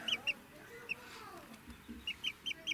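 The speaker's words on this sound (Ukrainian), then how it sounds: "Із цих ось двох тут є курочка і петушок." A hen and a rooster cluck softly at fairly close range. Short clucks come in quick clusters at the start and end, with a quieter stretch between.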